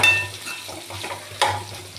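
Chopped big onion added to dried anchovies frying in a pan, a close sizzle with stirring scrapes and a sharp clink near the end, with no talk.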